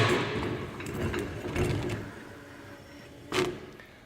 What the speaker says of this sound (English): Now I take my wing nut, rotate it on a couple spins,